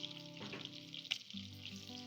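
Finely chopped garlic sautés lightly in a pan of butter and oil, giving a quiet, steady sizzle with a few soft stirring scrapes and no talking.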